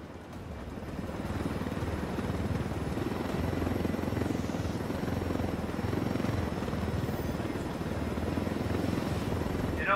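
A helicopter in the video game Ghost Recon Wildlands flies with a loud, steady rotor and engine drone that holds unbroken throughout.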